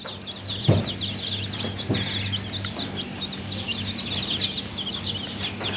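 Chickens cluck and chirp in a steady stream against a constant low hum, with a few louder bursts near the start.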